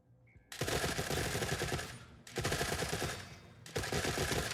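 Gunfire in The Forever Winter video game: loud, dense automatic bursts in three long sustained volleys separated by brief gaps, with no talking.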